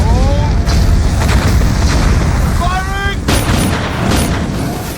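Landmine explosions in a war horror film, heavy booming blasts with dense rumbling debris, very loud and close, a couple of distinct detonations layered with shrill whistling tones and a narrating voice over them.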